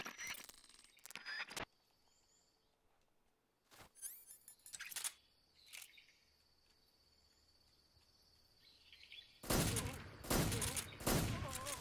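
Gunshots in Metal Gear Solid 3, scattered sharp cracks at the start and middle, then a dense burst of rapid shots near the end, set against a quiet background with faint insect-like chirps.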